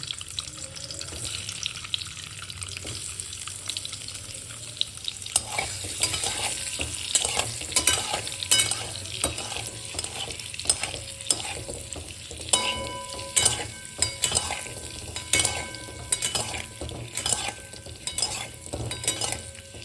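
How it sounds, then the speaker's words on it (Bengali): Eggs frying in white oil in a home kitchen, a steady crackling sizzle with stirring scrapes and pan clatter, close and continuous without speech. "প্রথমে ডিমগুলোকে ভাজবো"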